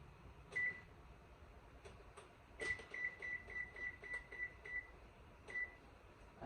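Short electronic beeps sound from an oven timer being set while cookies bake: a couple of single beeps, then a quick run of evenly spaced chirps, then one last beep, all over quiet kitchen background with no talking.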